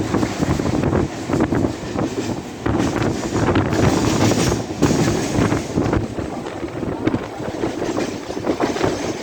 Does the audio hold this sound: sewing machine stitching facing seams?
no